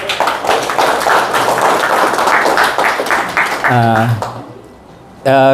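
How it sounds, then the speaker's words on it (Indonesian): Audience applause at the first-anniversary celebration of ASA Tangerang Raya, an aglaonema plant community: dense, sustained clapping for about four seconds, then a voice speaks briefly before the clapping swells again. "maka kita kasih aplaus buat ASA Tangerang Raya"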